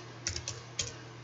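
A few quick keystrokes on a computer keyboard as a username is typed, three or four light clicks in a short burst, close and fairly quiet with no talking.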